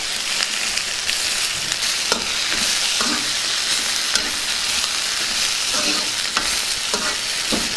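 Spring onion stalks being stirred in a hot pan for a Telugu chana dal curry make a loud, continuous sizzle punctuated by regular scraping stirs, close up and with no voices.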